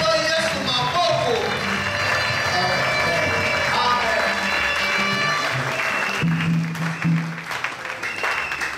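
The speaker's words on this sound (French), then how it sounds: "Acclamons Jésus-Christ. Tobete la ngolo Yesu maboko." At an international church conference, a congregation claps and cheers to acclaim Jesus Christ, a loud, sustained roar of applause and raised voices that thins out toward the end.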